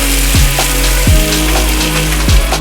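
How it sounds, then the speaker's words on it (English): Chorizo and egg whites from egg beaters frying in a pan for quesadillas, a loud, dense sizzle with low thumping knocks repeating roughly once a second, no voices. "while the chorizo and huevo is cooking"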